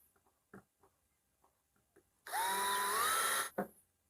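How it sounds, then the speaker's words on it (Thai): An electric drill bores an angled 45-degree pilot hole for a DIY boot rack, a loud whirring burst of a bit more than a second with rising pitch, set between quiet clicks and handling taps. "ดอกสว่านแล้วเราได้ ในส่วนของ 45 องศา แล้ว เราก็จะเจาะไป อย่างนี้"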